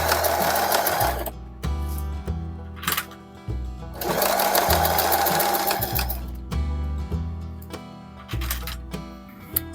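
A sewing machine runs straight top stitching through fabric during garment mending, its fast stitching coming in several loud, close bursts that start and stop with short pauses between runs.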